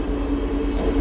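A diesel railcar rolls into platform 4 at Braunschweig Hauptbahnhof after dark, a brief steady low engine drone and track rumble with no voices.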